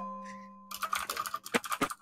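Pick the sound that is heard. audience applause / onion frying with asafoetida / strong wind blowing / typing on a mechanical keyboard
typing on a mechanical keyboard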